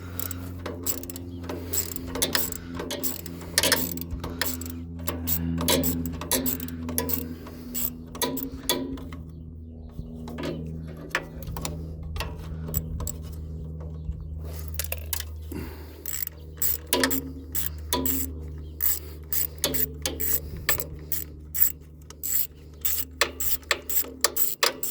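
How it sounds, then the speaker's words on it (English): Ratchet with an extension and short socket working an 8mm bolt off the fuel setup of an Onan Emerald 1 generator, giving rapid repeated metallic clicking bursts over a steady low hum throughout. "So I got an extension and a short socket there"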